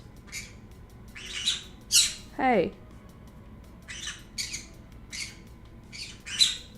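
Several garden birds give harsh squawks in short bursts spread through the stretch, loud and fairly close over a quiet outdoor background, with a person calling out briefly to them.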